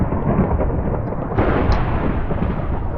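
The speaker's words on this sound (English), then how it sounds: "I hate the thunder in Minecraft, jeez." Thunder in the game Minecraft, a heavy continuous rumbling roar that is loud and close, swelling a little midway, with no talking.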